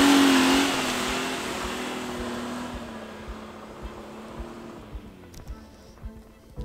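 A Toyota pickup engine revs hard while climbing a snowy hill, a loud sustained drone that fades as the truck moves away, with bumps and knocks from the terrain toward the end.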